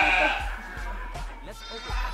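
Sheep on a lamb-breeding farm, a loud bleat at the start followed by scattered quieter bleats and soft thumps of movement nearby.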